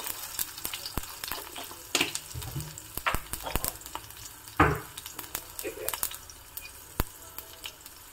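Spices crackle and sizzle in hot oil for a tempering of green chillies, curry leaves, asafoetida and turmeric, with scattered sharp pops and spatters over a soft, steady frying hiss, close by.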